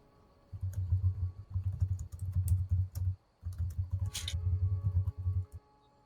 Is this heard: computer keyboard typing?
yes